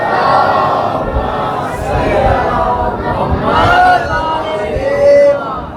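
A crowd at a Muharram majlis chants salawat loudly in unison, with many voices rising and falling together in a continuous roar, close and full.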